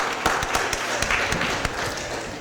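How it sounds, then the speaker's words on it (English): An audience claps at a board of aldermen meeting, a moderate round of scattered applause with distinct individual claps in a room, no voices over it. "Let's give her one more big round of applause for her move forward."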